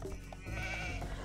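Sheep bleating in the real-time strategy game Age of Empires II, a short nasal bleat over a steady bed of game ambience and music, with no talk.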